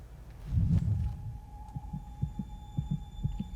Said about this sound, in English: I can hear their heartbeats